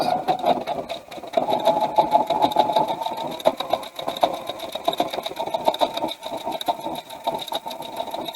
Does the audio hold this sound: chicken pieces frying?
no